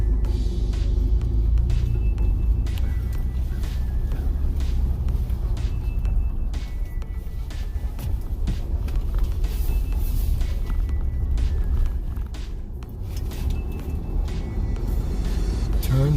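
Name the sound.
Ford Bronco driving and turning at low speed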